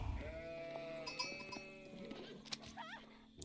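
Sheep bleating in the real-time strategy game Age of Empires 4, a few faint wavering bleats alone over quiet game ambience.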